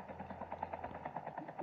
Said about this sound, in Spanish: nos movemos en el helicóptero